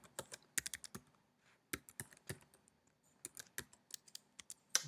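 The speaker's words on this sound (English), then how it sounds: "I'm going to select the password and I'm going to put in a password that I like." A password being typed on a computer keyboard: quiet, close clicks of keys arriving in uneven bursts, separated by short pauses.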